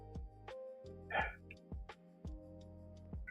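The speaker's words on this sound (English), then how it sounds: "What are you gonna do when animals bark, right?" Dogs bark in several short, sharp bursts with a yip or whimper among them, spaced irregularly and fairly quiet, with no speech.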